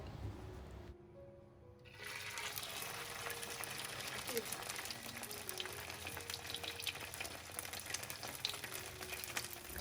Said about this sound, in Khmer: ខ្ញុំចូលចិត្តយកនំគូឆាយនោះទៅចៀនឲ្យវាឡើងក្រហមទាំងសងខាង